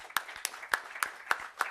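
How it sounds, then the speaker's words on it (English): Hands clap at a conference session in honor of the speakers, with six or so sharp, evenly spaced claps that sound close and fairly light, like a single person or a few people rather than a full crowd. "our speakers really deserve a good round of applause"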